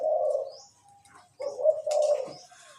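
Close, deep spotted dove cooing in two phrases separated by a short gap, the second longer and rolling, with faint chirps in the background.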